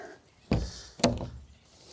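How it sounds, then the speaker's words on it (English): An Opus RV overland camping trailer door swings shut in two quick bumps about half a second apart, a soft thud and then a firmer latching clack, close and fairly quiet. "let's close up this door"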